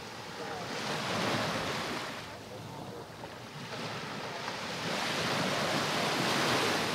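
Ocean waves breaking on a shore during fly fishing, a continuous rushing wash of surf that swells and recedes in slow surges, with wind buffeting the microphone.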